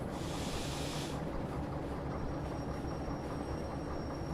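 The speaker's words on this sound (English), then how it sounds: "bit of train brake" Steady train brake hiss in the Derail Valley railway simulator, a broad, loud rushing hiss over low rumbling wagon noise that fades after about a second while the rolling rumble continues alone.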